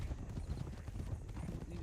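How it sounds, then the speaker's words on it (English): Horse hooves clip-clop steadily in a western ranch roleplay video game, a continuous rhythmic patter of close footfalls with faint background noise. "Ethan, I have a strong urge to jump to your horse"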